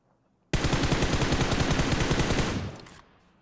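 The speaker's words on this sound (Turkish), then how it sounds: "sen oradan bana sıkıyorsun?" Sustained automatic gunfire in PUBG Mobile, a loud, rapid burst of shots lasting about two seconds before cutting off, heard alone.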